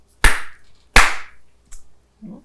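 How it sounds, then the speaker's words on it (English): Slow clapping with two loud, sharp hand claps about 0.7 seconds apart and nothing else between them, then a fainter tap and a short low sound at the end. "as soon as you do, you hear a slow clap"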